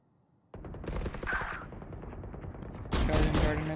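Rapid gunfire from a first-person shooter video game, apparently Counter-Strike, rattles in quick bursts that grow louder and denser toward the end, with faint talk underneath.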